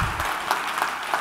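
Audience applause at a conference talk, a steady wash of clapping from a crowd that carries evenly through the moment without voices.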